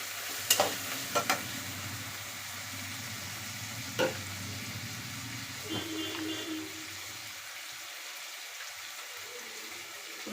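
Tomato and coriander frying for a brinjal palle, with a spoon scraping and clinking against the pan in a few sharp knocks over a soft, steady sizzle, which fades toward the end.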